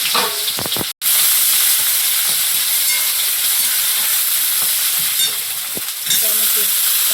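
Chopped onion, garlic and ginger hitting hot oil with five-spice, a loud, hissing sizzle that holds strong and steady, with a few stirring knocks at the start and a short break early on.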